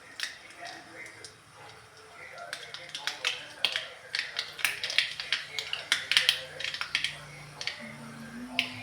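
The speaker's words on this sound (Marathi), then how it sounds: "मोहरी चांगली तडतडल्यानंतर जिरे घालायचे" Mustard seeds crackling and popping in hot oil in a kadhai, a steady scatter of sharp little snaps growing busier, with faint kitchen background.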